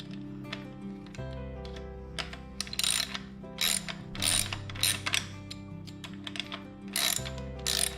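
Ratchet wrench clicking as a 10mm brake bolt is loosened on a Segway Ninebot Max electric scooter, a close, steady run of rapid pawl clicks in short bursts over a low background hum, no voices.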